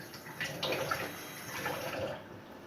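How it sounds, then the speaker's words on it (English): Hands rinsed under a running kitchen tap, a soft continuous splash of water with small irregular splatters as the hands move through the stream, close and fairly quiet. "Let me rinse my hands off."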